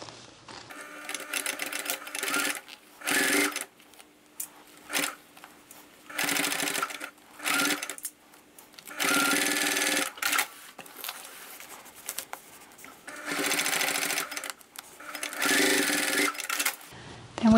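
A sewing machine stitches seams with orange thread on an upcycled denim tote bag made from old jeans, running in repeated fast mechanical bursts separated by short pauses, close and alone.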